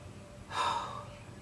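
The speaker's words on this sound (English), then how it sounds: "Your breathing will start speeding up as if you were going for a brisk walk" A single sharp, quick breath drawn in, like a gasp or snort, close and fairly loud, from a person demonstrating speeding breathing.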